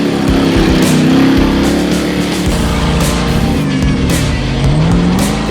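A junkyard-built race truck roars around a short dirt course, its engine loud and close, surging and dipping with gear changes and throttle, with bursts of tire and gravel noise.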